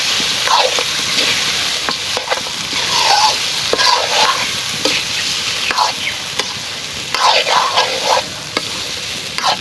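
Chicken with mango being stir-fried in a pan in a home village kitchen, with steady close sizzling and repeated scraping stirs of the spoon through the meat.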